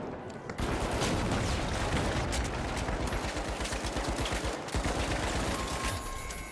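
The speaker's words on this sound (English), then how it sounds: "Dear Lord, that was way too many bullets." Sustained rapid gunfire in Project Zomboid, a long dense burst of shots rattling almost continuously for several seconds, loud and close with a brief break midway.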